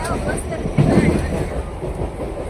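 A moving passenger train gives a steady rumble with a faint rhythmic clatter from inside a crowded carriage, with faint voices mixed in.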